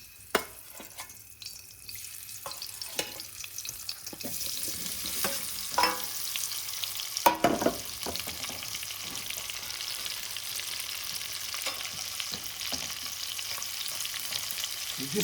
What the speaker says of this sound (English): You just want to fry these so all that spices gets cooked into the paneer.